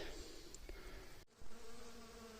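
Bees hum around flowering plants in a wild Carpathian forest in May, a faint steady buzz with a short break midway and soft background ambience.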